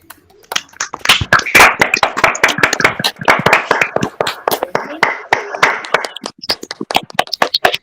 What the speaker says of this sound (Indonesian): alit-alit suksema niki icen dumun tepuk tangannya nih